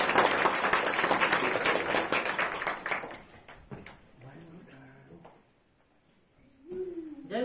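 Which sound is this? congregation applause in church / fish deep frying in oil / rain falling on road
congregation applause in church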